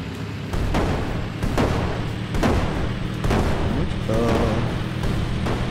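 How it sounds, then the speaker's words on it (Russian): Tank cannons firing in the Brick Rigs video game, heavy booming shots landing one after another at close range, with rumbling battle noise in between and a loud, dense mix throughout. "Нифига себе, это по мне стреляют."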